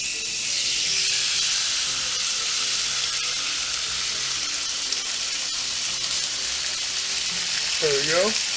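A steak sizzles on a grill, a loud, steady hiss of fat and steam throughout, close and continuous, with a brief rising tonal squeal near the end and no voices.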